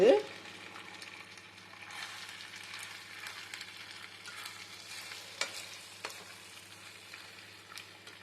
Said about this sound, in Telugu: మసాలాలన్నీ బాగా పాస్తాకు పట్టేలాగా బాగా కలుపుకోవాలి